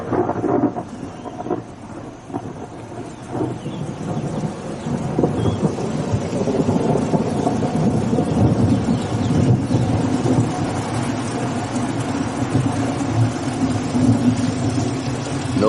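An electric thunderstorm fills the air with low rolling thunder and steady rain, rumbling and swelling continuously, with a distant engine-like drone underneath.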